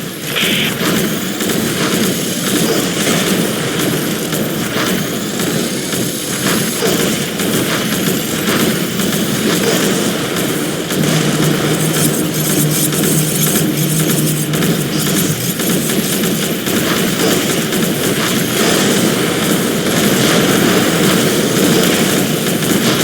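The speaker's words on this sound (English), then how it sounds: "Bomber formation entering pillbox." A bomber formation in the tower-defense game X-Morph: Defense flies overhead: a dense, loud, unbroken engine roar with scattered blasts and booms. It runs for over twenty seconds with no talking.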